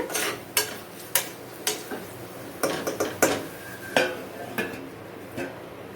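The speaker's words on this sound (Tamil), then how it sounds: "ஸோ அதனால் நல்லா வந்து கிண்டி விட்டுக்கோங்க" Rice and lentils being stirred in a cooking pot give sharp, repeated clinks and scrapes of a utensil against the metal pot at an irregular rhythm, close and clear with no talk.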